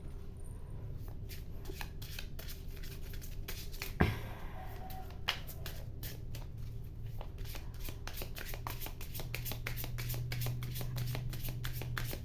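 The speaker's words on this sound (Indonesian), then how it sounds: "Kartunya agak licin, nanti aku shuffle lagi." A deck of slightly slippery tarot cards shuffled by hand, a quiet, continuous riffling patter of rapid card flicks with an occasional sharper slap, close up and without talk.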